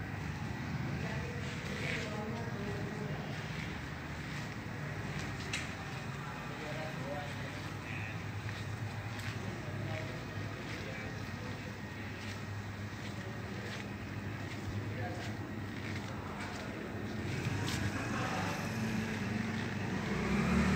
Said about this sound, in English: Marble grinding and polishing machine.